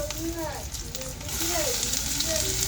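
Mutton fries in hot oil with dried red chili and onion, a continuous close sizzle that swells louder partway through, with a voice talking over it.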